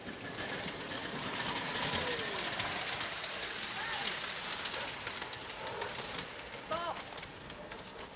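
A miniature steam locomotive at the Ridgeway Park model engineering club reverses with a steady, close rumble and hiss that continues throughout, with a couple of brief whistle-like tones near the end.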